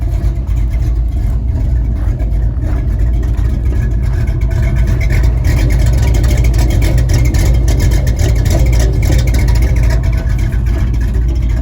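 A 1966 Chevy short bed pickup idles steadily with a simple exhaust turned down ahead of the rear axle, giving a loud, continuous low rumble close by with slight rises in revs and no talking.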